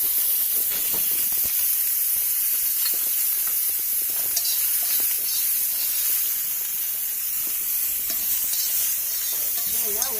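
Onions frying in a pan give a steady bright sizzle with hissing steam, broken by light scraping stirs throughout, close and constant with no talking.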